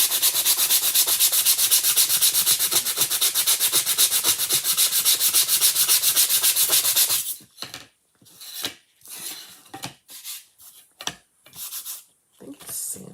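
Steady hand sanding scrapes continuously and rhythmically for several seconds, then breaks into short separate strokes with pauses between them.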